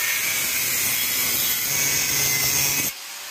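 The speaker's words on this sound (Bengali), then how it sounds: "পাইপটাকে ভালো করে একটু ঘষে দেওয়া লাগবে" A galvanized iron pipe is rubbed down to strip paint and rust. The steady, close abrasive scraping runs for about three seconds and then stops abruptly.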